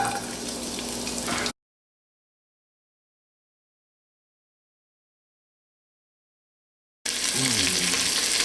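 Garlic sizzles in sunflower oil in a large hot wok, a steady close frying hiss that cuts out to silence for several seconds and then returns just as dense.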